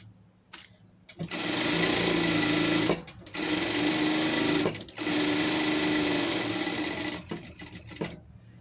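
A sewing machine stitching a small pet dress runs in three sustained bursts separated by brief pauses, close and fairly loud, with light handling noises before and after.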